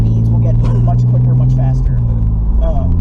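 Audi B5 S4 with a K24 engine accelerating hard in fourth gear, a loud, droning engine rumble heard from inside the car under talking voices.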